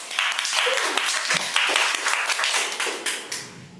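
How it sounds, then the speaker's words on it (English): Round of applause from an audience at a Toastmasters club meeting, steady dense clapping that fills the whole stretch at moderate level with no speech over it. "Please giving a round of applause to Toastmaster Ines."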